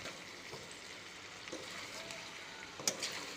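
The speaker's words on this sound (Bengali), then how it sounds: "কষাতে হবে অনেকক্ষণ ধরে, ভালোভাবে কষিয়ে নিতে হবে।" Goat meat from a home-raised country goat sautéing in its own fat and oil, giving a faint, steady low sizzle with a few small crackles and pops throughout.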